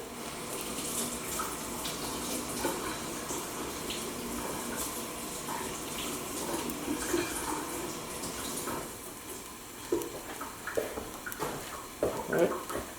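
A spoon is rinsed under a running kitchen tap, a steady soft stream of water with a few faint clinks and splashes near the end.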